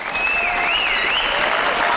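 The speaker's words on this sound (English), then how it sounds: "Give this guy another round of applause for such preparation in this matchup." Loud, continuous applause from a crowd at a StarCraft II tournament quarter-final fills the whole stretch, with whistles rising and falling above the clapping.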